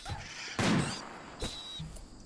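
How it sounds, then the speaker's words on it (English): A cannon fires in the RimWorld video game, two sharp booming blasts with a scattered burst of gunfire between them, moderately loud against a quiet, faintly humming backdrop. "I forgot I had the cannon."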